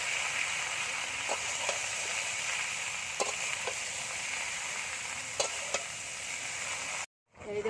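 Ridge gourd and potato frying in a pan, a steady bright sizzle with occasional clinks of stirring throughout, ending in a brief sudden silence.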